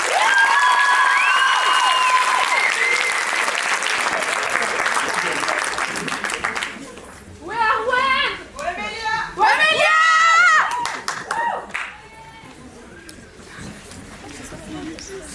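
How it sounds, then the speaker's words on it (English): Concert audience applause for final-year music students at Lycée Blaise Pascal, clapping that fades out over several seconds, followed by talk and children's voices in the hall. "vous pouvez donner un tonnerre d'applaudissements pour nos terminales option musique"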